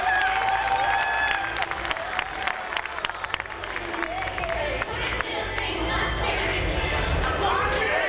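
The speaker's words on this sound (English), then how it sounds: "A round of applause for Miss Victoria Snow" Live audience at a 1998 MBU pageant applauds and cheers during the evening gown competition, a dense, steady wash of clapping and crowd noise with scattered shouts filling the room throughout.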